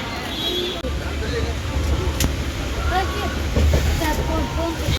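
Steady low rumble of a moving train with rattling and faint squeaks, background chatter and noise throughout.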